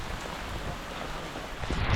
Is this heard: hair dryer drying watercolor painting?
no